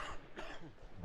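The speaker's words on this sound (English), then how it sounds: "Oh, this cough." One person gives a few rough, breathy coughs close up, in a short hoarse burst.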